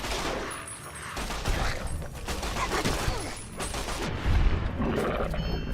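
Sustained rapid gunfire from the video game Fallout: New Vegas, in the Old World Blues add-on, with dense overlapping shots and bursts at close range, loud and continuous across the stretch.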